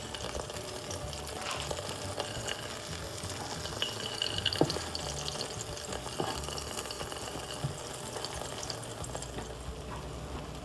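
Egg frittata with salmon cooks in a pan on a stove top, giving a steady, moderate sizzle and fry crackle that runs throughout with a few small scraping and stirring clicks.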